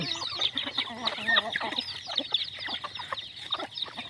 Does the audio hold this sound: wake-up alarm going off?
no